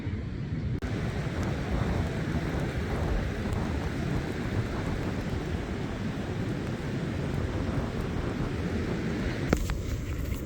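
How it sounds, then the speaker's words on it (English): Rain falls in a dense, steady hiss over coastal sand dunes on New Zealand's west coast, with wind rushing through it and a brief clatter near the end. "it's just started raining, we better get going"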